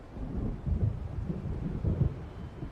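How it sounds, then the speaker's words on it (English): In the video game Alan Wake Remastered, a thunderstorm rolls in with deep, rumbling thunder swelling and fading in uneven waves over a faint rain hiss, low and heavy, with no voices. "It seems there's a storm coming."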